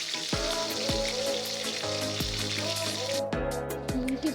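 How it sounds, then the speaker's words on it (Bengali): Broiler chicken pieces frying in hot oil, giving a steady, dense sizzle that holds for several seconds, with a few faint tonal sounds in the background and no talking. "ব্রয়লার মুরগি দিয়ে রোস্ট করতে সর্বপ্রথমে আমি মুরগিটাকে ভেজে নিচ্ছি।"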